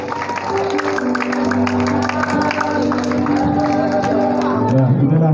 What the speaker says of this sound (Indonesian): Tepuk tangan anak-anak sekalian.